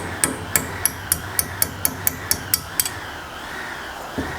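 About a dozen sharp metallic hammer blows on a clamped VW Golf Mk1 race car part ring out in a steady rhythm, close and loud, then stop, leaving a quiet pause and one last faint knock.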